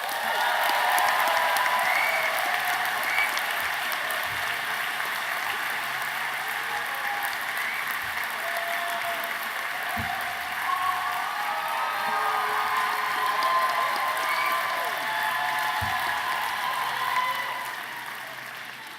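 Sustained applause from a university convocation audience fills the space, a steady wash of clapping that tapers off at the end.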